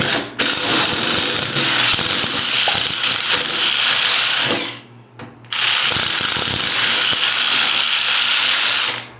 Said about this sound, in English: I'm gonna make this hole bigger.